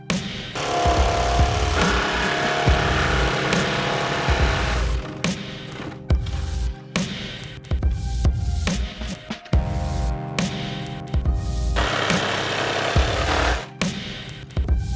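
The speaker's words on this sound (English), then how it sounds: "I'm going to be using a jigsaw for this step." A jigsaw cuts wooden forms for a DIY skate bank: loud, close, rapid buzzing bursts of the reciprocating blade biting into the wood, stopping and restarting several times with brief quiet gaps.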